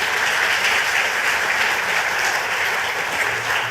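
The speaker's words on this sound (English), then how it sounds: "Give him another round of applause." A large audience at a Grenada cultural and creative industries conference gives a speaker another round of applause, a loud, dense and continuous roar of clapping with no voices.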